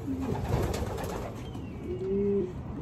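Pigeons in a loft of racing pigeons coo in low, throaty calls, one near the start and a longer rolling coo toward the end, set against a constant background hum with a faint flutter and no voices.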